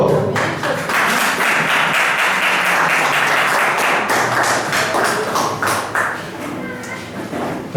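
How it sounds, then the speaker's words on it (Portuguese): A church congregation applauds after a sermon reading, dense sustained clapping filling the room at steady loudness for several seconds before tapering slightly near the end. "Vamos aplaudir a palavra do Senhor."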